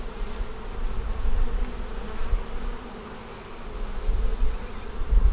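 Honeybees buzz in a dense, steady drone while a hive is split and a three-year-old blue-marked queen is handled, close and continuous with no talking.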